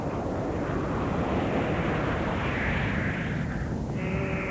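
A Blue Angels jet roars loudly overhead over the California desert, a broad, steady rushing blast with a rising whine near the end.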